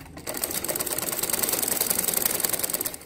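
A sewing machine runs steadily, stitching pieces of sharara fabric together with a fast, even mechanical clatter up close and no voices.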